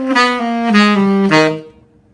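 A tenor saxophone plays a short phrase from a middle-school jazz etude: three sustained, articulated notes in a bright reedy tone, close and solo, ending with a brief decay into silence.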